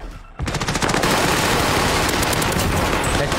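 Rapid, continuous automatic gunfire erupts suddenly after a brief quiet moment and keeps rattling loudly without pause, sounding like a video game firefight.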